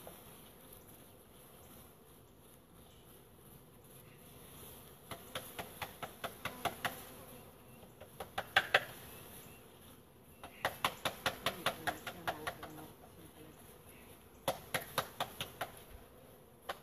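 Roughly three pounds of honeybees are dumped from a shipping crate into a new hive fitted with foundation. Bursts of rapid knocks and taps repeat over a faint, steady low buzz.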